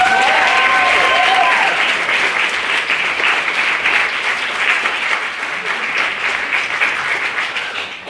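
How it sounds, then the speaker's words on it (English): A debating society audience claps loudly after a speaker finishes a maiden speech in a formal debate, with dense, sustained applause filling the hall and slowly easing off toward the end. "Huge round of applause for Owen's maiden speech."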